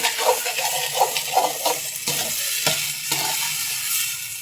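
Turmeric is stirred while it roasts in a pan for halwa, giving a soft steady sizzle with repeated scraping strokes of a spoon, close and clear.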